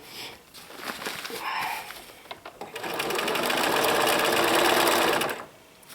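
A sewing machine zigzag satin stitching an applique, running in short bursts at first and then in a loud, steady, continuous run near the mic before stopping.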